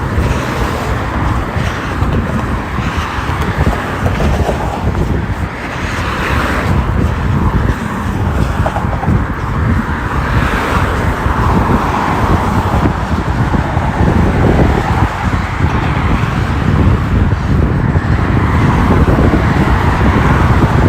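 Busy road traffic on a bridge during a morning run, a loud continuous roar of passing cars mixed with wind buffeting the microphone, with no voices.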